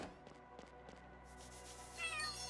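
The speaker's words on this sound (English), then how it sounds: "Cat." Several short cat meows sound one after another in the video game Chained Echoes, clear and fairly close over a soft sustained music backdrop, with no talking.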